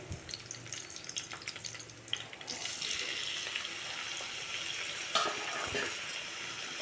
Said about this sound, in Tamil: இந்த தக்காளியும் நல்லா ஃப்ரை ஆகட்டும்